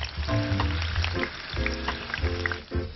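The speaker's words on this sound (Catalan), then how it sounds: "Ara començarem a fregir el moneig, aquest cim ja és calent." Dough for aufegat dolç, a sweet Mallorcan fried pastry, sizzling in hot oil in Vilafranca de Bonany, a steady close crackling fry with bubbling spits throughout and no talking.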